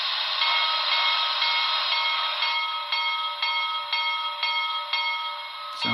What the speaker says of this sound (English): Function 1 is bell.